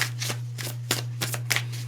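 Tarot cards being shuffled by hand: several quick riffling bursts in an irregular rhythm, close and moderately loud over a low steady hum.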